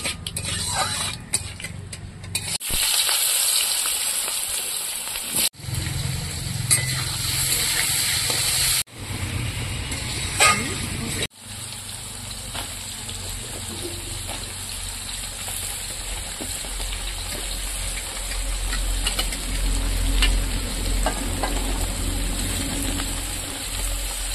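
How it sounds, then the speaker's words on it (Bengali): Dry red chillies crackle in hot tempering oil for a home-cooked shukto, a steady close sizzle and patter with sharp pops and clatters of utensils, running continuously without talk. "শুকনো লঙ্কা ফোড়নে দিলাম।"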